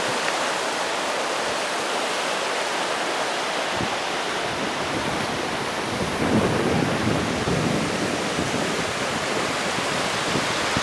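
Strong wind roaring through a mountain valley near the Sorgschrofen, a dense continuous rush that buffets louder partway through, with no one speaking.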